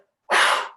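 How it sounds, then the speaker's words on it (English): A single strong, forceful exhale through the mouth, done as a breathing exercise, bursts after a short silence as one loud close breathy rush that fades over about half a second. "I want you to pay attention to your exhale."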